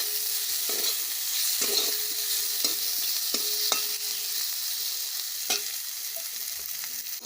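Potatoes fry in hot oil with turmeric and salt in a pan, a steady close sizzle broken by repeated scraping strokes of a spatula stirring them, no voices.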